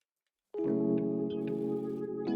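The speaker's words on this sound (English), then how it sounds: "Stitch the facing in place all around the jacket with a 1 cm seam allowance." A sewing machine stitches the facing onto a fully lined winter coat, starting abruptly after a short silence into a close, steady, humming motor drone with faint ticking of the needle.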